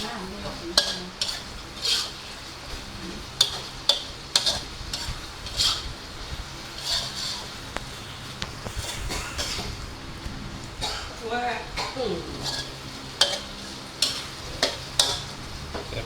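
A spatula scrapes and clinks against a hot pan in irregular strokes over a steady sizzle while stir-frying beef with curry paste, beans, fingerroot and green peppercorns, with someone talking throughout.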